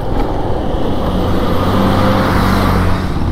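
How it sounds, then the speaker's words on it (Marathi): Loud traffic rumble comes from heavy trucks rolling one after another down a dusty road that is being widened. The noise is a continuous low drone with no clear gaps and no voices. "हे बघा ट्रकवर ट्रक येत आहेत"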